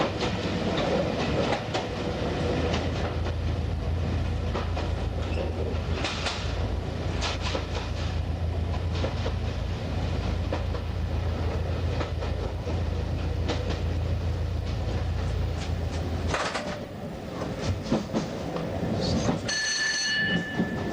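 British Rail Class 205 DEMU diesel multiple unit running between Hastings and Ashford in 1989, heard from inside: a steady low diesel drone and rolling rumble with wheel clatter, close and continuous, then a brief shift near the end.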